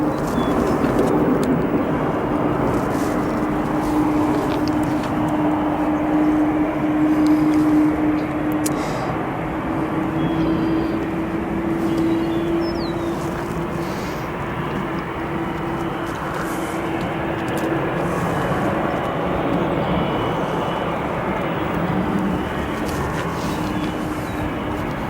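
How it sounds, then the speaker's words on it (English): An Aero Union Airbus A300 departs Chicago's O'Hare International Airport, a loud continuous jet roar with a droning engine tone that holds steady for the full stretch, slowly shifting in pitch. "Aero Union, a A300 departing to Mexico City from Chicago's O'Hare International Airport."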